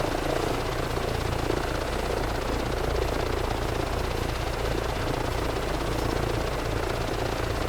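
Continuous loud helicopter rotor and engine drone from Microsoft Flight Simulator 2024 as the chopper flies over the Nordschleife, steady and close with no talking.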